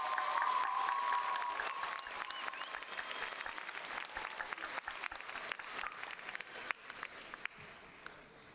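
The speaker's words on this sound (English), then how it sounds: "Let's give another round of applause for Daria." Sustained applause from a crowd at a high school graduation ceremony for the Lincoln High class of 2026, dense clapping that is heaviest at the start and slowly thins to scattered claps, heard from a distance with no voices.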